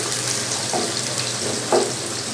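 Onion frying in a pan with a steady bright sizzle and a couple of soft stirring scrapes, close and alone.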